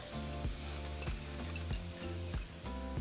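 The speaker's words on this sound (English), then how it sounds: "So now we're just going to throw in our shrimp." Shrimp sizzle in a Cajun sauce in a hot pan, a dense, constant frying hiss with periodic stirring scrapes about every half second, recorded close over a low steady hum and no voices.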